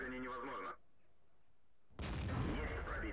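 A tank cannon shot in World of Tanks fires with a sharp, loud boom at the start, then a short stretch of near silence, followed by a second loud blast with a rumbling tail.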